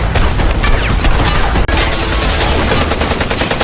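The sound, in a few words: gunfire in a shootout in a film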